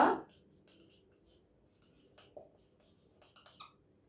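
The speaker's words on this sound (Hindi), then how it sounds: "लिख देती हूं" A teacher writing on a board, making short, scattered scratchy strokes in bursts that are soft and fairly close, after a brief louder sound at the start.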